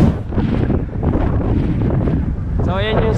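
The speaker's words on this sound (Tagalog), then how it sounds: "Ang lakas ng hangin." Strong wind roars and buffets the microphone continuously at Blue Lagoon in Pagudpud, with a brief voice near the end.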